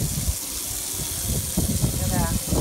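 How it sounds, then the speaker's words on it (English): Water runs steadily from a hose, rinsing oven cleaner off a boat hull where paint and vinyl lettering are being removed, a broad continuous gush with uneven splashing bursts throughout. "So we're going to turn the water back on and see how it is."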